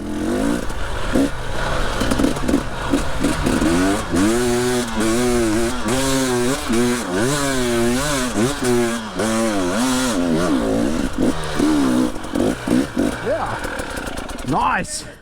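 Motorcycle engine revving hard in third gear on an off-road practice hill, a loud sustained drone rising and falling in pitch throughout, with someone talking over it near the end.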